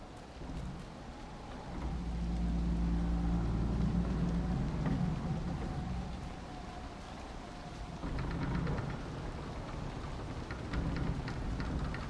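A storm in the Dragon Age: Inquisition video game brings steady rain hiss with a low rolling rumble of thunder swelling early and again near the end, moderately loud, without speech.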